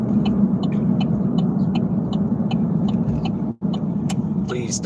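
A car on the road as the driver comes off the highway, a steady close engine rumble that holds throughout, with a brief dropout near the end.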